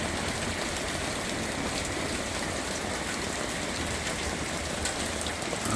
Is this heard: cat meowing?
no